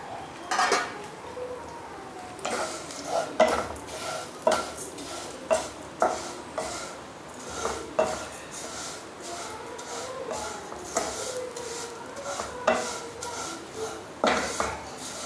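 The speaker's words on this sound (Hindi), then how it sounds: "सेवई को घी में भून लेंगे" Vermicelli (sevai) stirred and roasted in desi ghee in a pan: repeated close scrapes and knocks of a spoon against the metal, in an uneven rhythm, over a faint background sizzle, with no talking.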